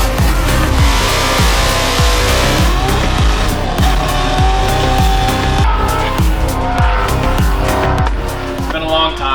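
A 1971 Ford F100 truck with a 500 horsepower engine, loud and close, with rhythmic revving and a heavy pulsing exhaust throughout and tire squeal mixed in.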